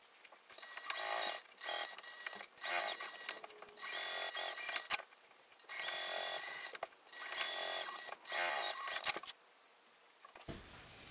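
A sewing machine stitches a fabric wallet in several bursts of steady whirring, each lasting a second or two. Short quiet pauses separate the runs, and near the end a brief gap is followed by a duller handling sound.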